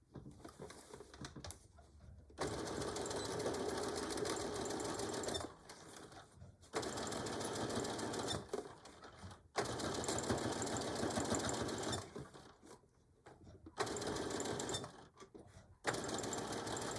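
A sewing machine back stitches along a beach or diaper bag, running in loud, steady bursts that stop and restart several times, with brief quiet pauses between passes.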